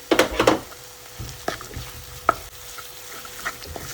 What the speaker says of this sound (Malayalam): ഇനി ഈ അരപ്പ് നമുക്ക് നന്നായിട്ട് മൂപ്പിച്ചെടുക്കണം